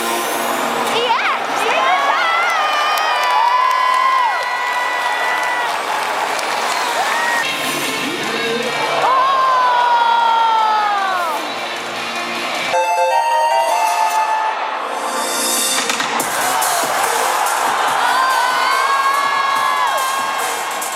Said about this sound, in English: And the crowd obviously went mad when the new Pokemon was announced and when next year's Worlds was announced.